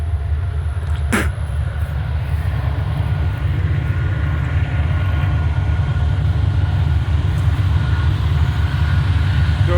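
A freight train led by an NC70 locomotive draws near with a loud, continuous low rumble and roar that holds steady throughout, with a brief sharp transient early on.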